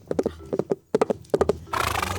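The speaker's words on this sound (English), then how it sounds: "In the first vision, Zechariah saw a man riding on a red horse." Horse hooves clip-clop in three quick rhythmic clusters, close and crisp, followed by a breathy neigh at the end.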